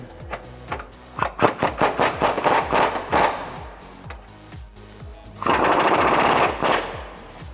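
Sway bar bolts on a 2005-2014 Ford Mustang being tightened with a rapid-fire impact wrench, sounding in repeated rattling bursts up close, with a longer loud continuous run near the end.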